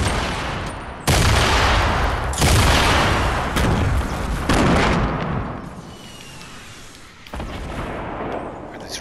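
In a video game match, rocket explosions and gunfire crash repeatedly, with heavy booming blasts and rattling shots close by. Several abrupt, loud impacts follow one another at short irregular intervals.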